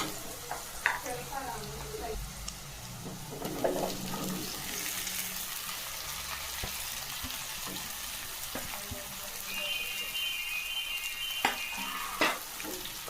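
Cut okra pieces sizzle steadily in hot oil in a pan, with a few scraping stirs and spatula knocks across the whole stretch, close by and fairly quiet.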